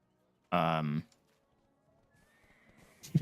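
A horse in the online game Black Desert lets out one loud, harmonic whinny lasting about half a second, followed by quiet background sounds and soft footfalls.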